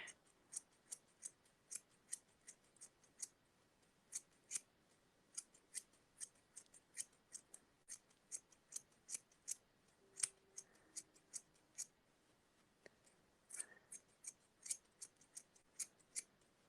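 Scissors snip steadily at a yarn pom pom, sharp crisp clicks coming in irregular quick bursts, close and clear over near silence.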